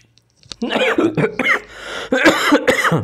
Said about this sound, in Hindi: माफ कीजिएगा थोड़ा सा खांसी है मुझे